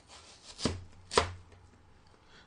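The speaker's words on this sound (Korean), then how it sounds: "칼도 그냥 들어가는 대로 쑥쑥 잘려." A knife slicing through a thin-skinned, very ripe apple watermelon, two sharp close cuts about half a second apart, each a crisp crunch, with quiet moments between.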